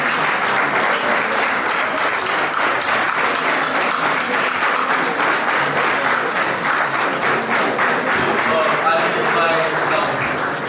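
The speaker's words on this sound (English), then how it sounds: "we'll give you a huge round of applause." Sustained, loud applause from a large audience at a Model United Nations closing ceremony at St Joseph's College, honouring delegates of Canada, Germany, France, Pakistan and Ethiopia, steady dense clapping throughout with crowd murmur mixed in.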